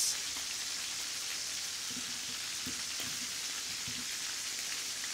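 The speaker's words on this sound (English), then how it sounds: "And now I'll throw in the shallots." Shallots tossed into a pan with browned chicken pieces, frying in a steady, close sizzle with a few soft knocks and stirring clatters, without talking.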